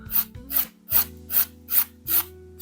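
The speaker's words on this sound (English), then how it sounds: "I'm just carefully filing till all of the lifted parts are gone" A nail file rasps across a broken, lifting fingernail in six even strokes, each one a close, crisp scrape with short pauses between.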